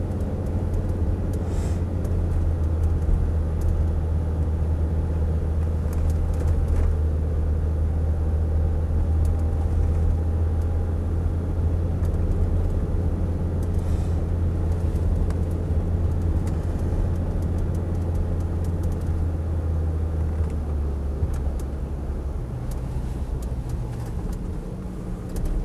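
Land Rover Discovery TD5 automatic cruising on a road, a steady low engine drone and road rumble heard from inside the cabin, constant and moderately loud with no talk.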